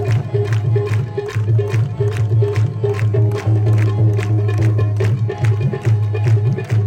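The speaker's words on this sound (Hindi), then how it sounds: "तालियों के साथ" A church congregation at an outdoor Christian gathering claps in a steady, even beat with a Punjabi worship song. The loud rhythmic claps ring out over sustained singing and music.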